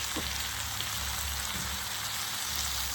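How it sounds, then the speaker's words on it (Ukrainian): Seasoned fish frying in a pan gives a steady, dense sizzle and crackle that holds at an even level throughout, with faint low hum beneath and no talking. "Все, хай смажиться рибка."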